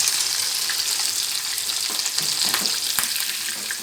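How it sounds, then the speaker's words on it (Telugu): Crabs fry in oil with a loud, dense, unbroken sizzle and scattered crackles, close by and with no talking. "కొంచెం ఆయిల్ తీసుకుని ఆ పీతల్ని ఈ విధంగా వేసి ఫ్రై చేయాలి"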